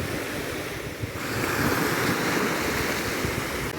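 Big Black Sea waves churning up seaweed and sand roll onto the Golden Beach in Odesa, a continuous broadband wash of surf with a swell midway, fairly near and moderately loud, with wind buffeting the microphone and no voices.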